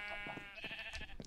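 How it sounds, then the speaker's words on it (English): A sheep bleats softly in Agrarian Skies, a Minecraft modpack, with a short series of quiet, wavering calls close by and no talk over it. "oh, sheep."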